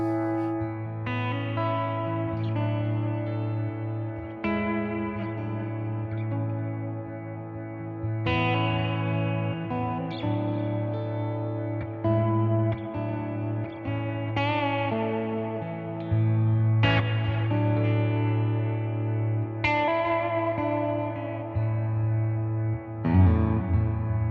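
Sustained electric guitar chords ring out through a delay, echoing repeats blurring into a soft, swelling pad over a steady low drone.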